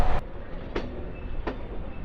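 MEMU express train on the Visakhapatnam–Parvatipuram line rumbles along the rails with a low steady roar. Two sharp clacks from the wheels cross rail joints at regular intervals, and a faint high whine sits above the rumble.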